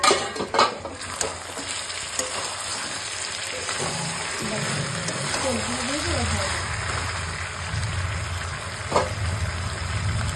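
Water poured into a pan of mushroom chicken as it cooks, giving a broad steady sizzle and bubbling hiss with scattered clinks of a stirring utensil, while a voice talks faintly over it.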